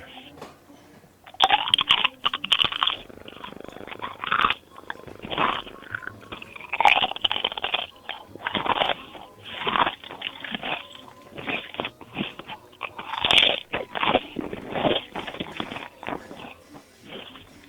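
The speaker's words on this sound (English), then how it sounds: "I think the caller is chewing some ice." Someone chewing ice heard over a phone line, irregular crunchy bursts of biting and grinding, close and band-limited, repeating in clusters.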